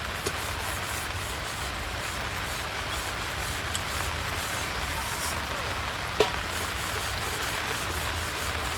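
Sudden rain at a shepherds' camp, a steady even patter of drops on surfaces with a faint engine-like hum beneath and one sharp tap partway through.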